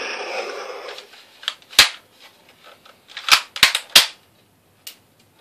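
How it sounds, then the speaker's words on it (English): A Wild West-style toy electronic repeater cap gun fires and ejects shells, producing about five sharp, loud cracks in an uneven sequence after some brief mechanical rustling. "I wouldn't recommend it to kids because look how the shells eject. Say I'm firing at you."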